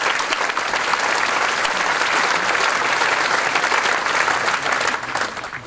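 Sustained loud applause fills a school prizegiving and Commemoration Day hall as the audience claps for the support staff, a dense steady wash of many hands that thins slightly at the very end.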